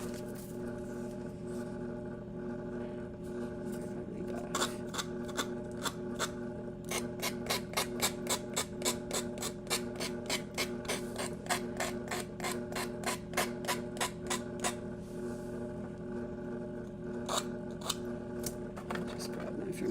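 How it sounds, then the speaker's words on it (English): Fingernail file rasping into a tight corner of a wooden craft piece, a run of quick close strokes in bursts of rapid regular scraping with short pauses between, fairly faint over a steady background hum. "Just grab my fingernail file. Yep, gets right down in that."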